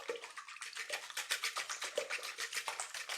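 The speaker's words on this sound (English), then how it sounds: "I'm going to give the eggs a quick whisk." Free-range eggs are whisked briskly in a bowl, giving a fast regular swishing beat of about five strokes per second, close and steady, with no voices.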